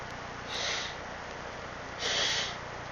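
Two short, breathy blasts of air through the nose, a second apart, fairly quiet against a soft background hiss.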